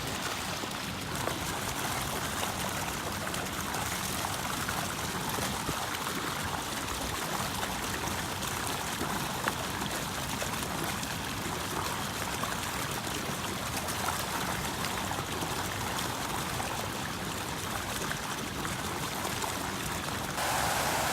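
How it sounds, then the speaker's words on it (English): Water rushes continuously out of a pipe at a rainbow trout farm, flushing fish downhill, a loud steady gushing roar with no pauses and no talk. "You can see them being flushed out of that pipe."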